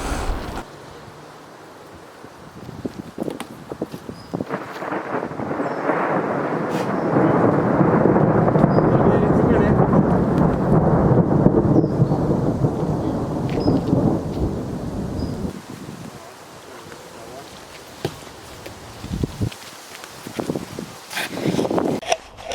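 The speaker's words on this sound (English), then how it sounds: "a stormy autumn evening" Thunder rolls through a stormy autumn evening at a lake, a long loud rumble building and fading over steady rain, with scattered sharp cracks and gusts; no talking.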